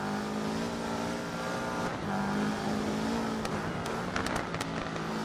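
Subaru Impreza rally car on the Monte Carlo stage in Dirt Rally, engine humming steadily with a brief gear change and some sharp clicks near the end, no speech.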